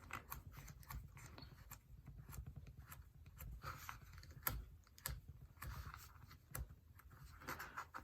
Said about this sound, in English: and that's how you burnish, folks